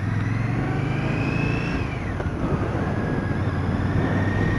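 A Victory Octane motorcycle engine pulls hard on a test ride, a loud close drone whose pitch climbs and dips as it accelerates, with wind rushing over it and no speech.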